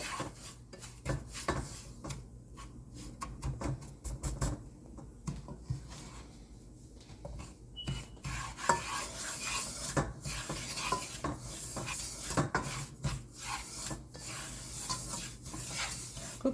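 Pineapple kesari frying in a pan, a quiet steady sizzle with repeated scraping stirs of a spoon against the pan, close and alone.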